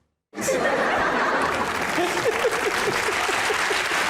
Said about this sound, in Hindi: क्यों तालियां बजा रहे हो?